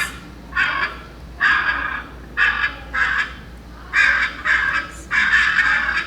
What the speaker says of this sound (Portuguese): Parecem patos, isso mesmo, tia Clívia.